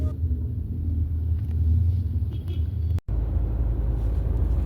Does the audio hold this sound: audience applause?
no